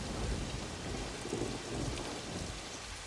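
Heavy rain pours down in a dense, continuous hiss with low rumbling mixed in, steady and enveloping, with no voices.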